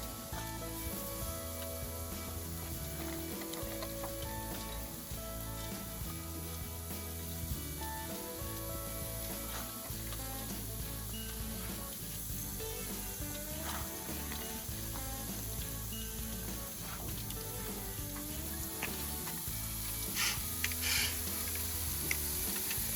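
Food sizzles steadily on a GrOven grill, a continuous close crackling hiss with faint metallic clicks and scrapes running through it and a few sharper pops near the end.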